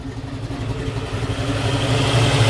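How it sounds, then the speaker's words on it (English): A 1966 AMC Rambler American 440 hardtop idles with a mild thumper cam, a steady, close, rumbling low loping rhythm that grows slightly fuller over a couple of seconds, with no voices. "Yeah, nice running little motor."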